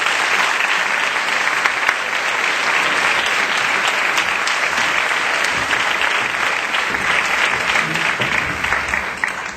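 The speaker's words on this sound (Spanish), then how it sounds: "Un aplauso para los dos," A conference audience claps in sustained, dense applause that holds steady throughout and tapers slightly at the end.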